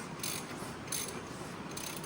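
A wrench turns a 1994 Ford F-150 engine over by hand, giving a faint, steady ratcheting click with a few slightly louder bursts, close by and alone.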